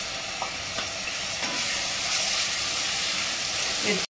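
Ground green chillies frying in hot oil for aloo paratha filling, a loud, dense, continuous hiss and sizzle close up, with no voice heard.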